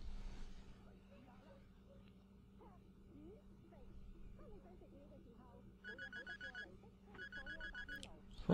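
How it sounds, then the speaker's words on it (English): Two short bursts of a ringing phone tone in the video game Sleeping Dogs sound faintly over quiet game ambience and a low background hum. "Phone call."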